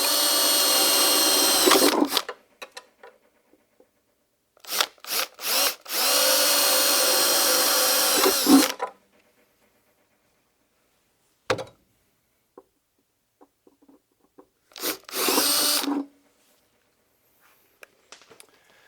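A power drill bores into the lower torque box of a Fox Body Mustang in three loud bursts of whining, high-speed cutting, separated by quiet pauses with faint shop clatter.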